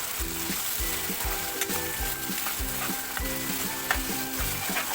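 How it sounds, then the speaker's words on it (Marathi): Tomatoes and spring onion sauté in a pan for a masala rice dish, making a steady, close sizzle with stirring scrapes over rhythmic background music. "आता हे मस्त आपण परतून घेऊया."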